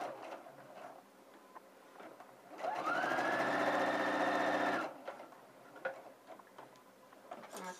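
A sewing machine runs in one steady burst of about two seconds, stitching the seam allowance on a welt pocket of a garment, with quieter handling noises before and after.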